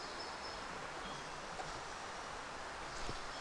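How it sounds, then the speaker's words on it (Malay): A forest stream flowing on a mountain hiking trail in Malaysia, a soft continuous rush of water heard from a short distance, steady and faint with no talk. "Sudah ada kedengaran bunyi sungai."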